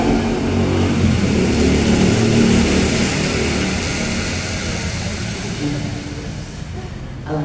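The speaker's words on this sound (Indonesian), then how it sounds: "Alhamdulillah iso ngrungokke swara motor" A motorbike engine passes by, a steady mid-pitched drone that stays loud throughout and fades slightly toward the end, with faint voices underneath.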